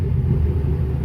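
A loud, deep and steady exhaust rumble comes from close to a 2003 Dodge Ram 2500 with a Flowmaster Series 50 exhaust as the throttle is blipped, lasting about a second with no speech over it.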